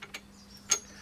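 Small metal planet wheels and backing washers being fitted into the gearbox of a Mini motor being rebuilt give a few faint, brief clicks and taps close by, with quiet gaps between them.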